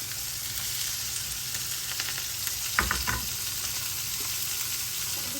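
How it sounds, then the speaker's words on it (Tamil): Onions, green chilli and curry leaves sizzle steadily in hot oil in a pan, a dense even frying hiss with a brief stir or clatter midway and no talking. "நான் வெங்காயம் போட்டுடுறேன். வெங்காயம், பச்சை மிளகா, கருவேப்பிலை."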